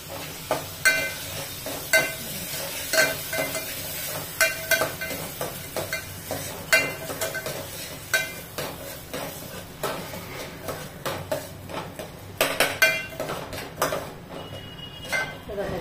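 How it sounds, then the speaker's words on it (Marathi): Barnyard millet dry-roasting in a pan with ghee, heard as repeated scraping and clinking of a spoon stirring against the pan over a faint sizzle, close up, with someone speaking intermittently. "छान अशी भाजून घ्यायची। भाजून झाली की मग जास्त नाही भाजायची, 1-2 मिनिटासाठी।"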